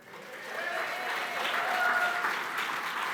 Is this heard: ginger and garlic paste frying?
no